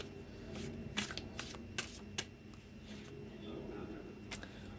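Tarot cards being shuffled by hand, several crisp riffling bursts close up against a quiet room background, with no talking.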